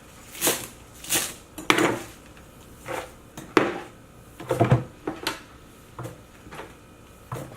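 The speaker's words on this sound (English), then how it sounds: "I'm going to cut the rest of the cilantro." Repeated knife strikes chopping cilantro on a cutting board, about a dozen crisp chops in an uneven rhythm, close by with no talking.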